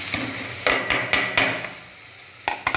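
Onions sautéed with chili and turmeric powder in a pan for chicken biryani, with a soft sizzle under sharp, repeated clangs of a spoon stirring against the metal.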